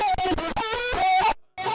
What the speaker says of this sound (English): So to get the distorted screechy sound, we added these effects